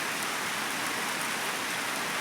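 Steady rain falling at night, a dense even hiss of drops on surfaces, continuous and moderately loud, with no voices.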